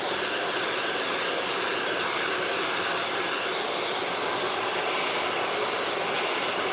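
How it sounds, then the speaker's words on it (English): A handheld blow dryer roars in a steady, loud, unbroken whoosh while drying and styling fine hair after shampooing, with no voices over it. "And then we just gonna hit it with the blow dryer again."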